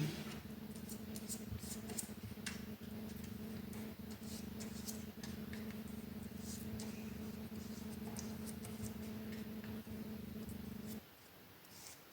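Scissors snip paper along a moon outline for a children's winter-evening appliqué craft, with soft, repeated cuts over a steady low hum. The hum cuts out near the end, and no one speaks.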